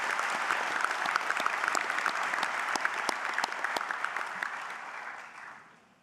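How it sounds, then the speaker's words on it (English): An audience at a Massey University graduation ceremony in Auckland gives a round of applause. The clapping is steady and moderately loud, then fades out near the end. "Can we give her another round of applause?"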